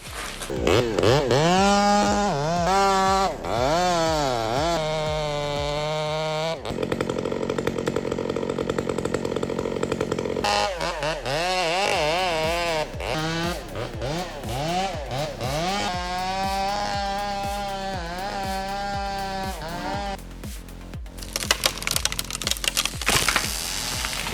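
Chainsaws cutting trees in a string of tree-felling attempts: loud, close engines revving and bogging down in rising and falling whines, with a brief break in the cutting partway through.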